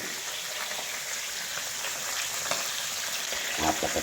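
Tilapia frying in a pan, a steady close sizzle and crackle running throughout, with slightly busier spattering toward the end.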